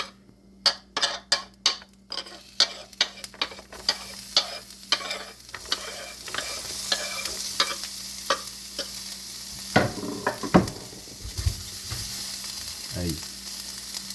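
Onions sizzle steadily in a hot pan while a utensil scrapes and taps repeatedly against it, stirring in quick bursts at first, then more sparsely.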